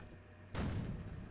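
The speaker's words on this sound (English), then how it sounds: "Actually, the 51 shot first, but there was both of them." Tank cannon fire from the 51 and 75 guns in the tank game Sprocket, one sudden muffled boom that cuts through a quiet background and fades in a short rumbling tail.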